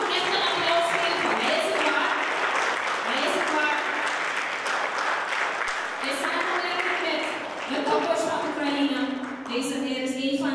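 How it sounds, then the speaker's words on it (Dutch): Audience applause at a Ukrainian-Crimean Tatar community event in Suriname, steady clapping throughout with voices talking over it and lively crowd chatter. "U mag hem echt een applaus geven."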